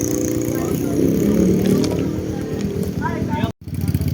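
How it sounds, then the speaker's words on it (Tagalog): A motorcycle's engine runs close by with rough low rumble while being backed up, then cuts briefly before resuming, with people talking over it. "Teka, atrasin na motor."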